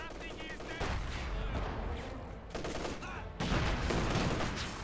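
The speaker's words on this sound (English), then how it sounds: "Flak half track engaging the penal squad." In Company of Heroes 2, a flak half-track fires at infantry, a penal squad, in rapid, dense bursts of automatic cannon fire that grow louder near the end, with a commentator's voice faintly mixed in.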